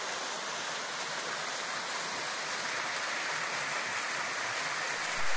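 A mountain waterfall on the slope of Mount Pelawangan roars in a steady, dense rush of falling water, constant and fairly close, with nothing else standing out.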